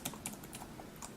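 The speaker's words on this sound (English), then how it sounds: "you can just start typing" Quick, light clicking of keys on a computer keyboard while operating a Windows 8 device, a fast irregular run of crisp taps heard close and quiet, with no talking.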